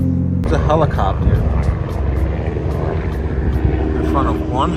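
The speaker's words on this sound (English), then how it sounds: "It's a helicopter" A helicopter passes low overhead above a city street, its rotor thudding as a loud, steady drone beneath a running car's engine rumble, with people talking over it.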